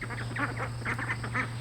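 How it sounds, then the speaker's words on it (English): Young ducklings on a farm give a quick run of soft, repeated quacks and peeps over a steady low hum, close by and fairly clear for under two seconds. "The ducklings are on the move."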